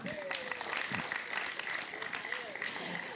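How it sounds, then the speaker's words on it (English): Audience applauding couples celebrating 25 years of marriage, a steady wash of clapping under a voice speaking over it. "Round of applause for them."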